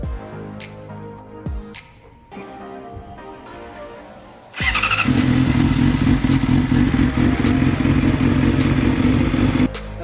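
A Honda CBR600RR sportbike being rebuilt from a wreck, running with its tip sensor jumped. Some clanks and rattles come first, then the engine catches and settles into a loud, steady idle heard up close.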